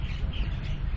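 Birds calling outdoors along a train journey from Bangkok to Ayutthaya in Thailand, a brief burst of chirps and tweets heard over steady low rumble, with no talk.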